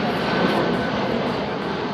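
A fixed-wing airplane passes low near an airport beside the Cite Soleil slum in Haiti, a loud continuous engine roar holding steady throughout with no speech.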